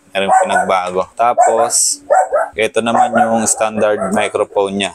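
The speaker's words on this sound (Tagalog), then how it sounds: "May asong maingay dito sa background natin." A dog barks a few times in the background while someone talks steadily over it.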